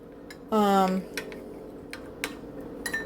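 Cornstarch slurry being stirred into a crock pot produces soft spoon clinks and light taps against the pot, along with a brief squeaky tone near the start; the sounds are fairly faint and close.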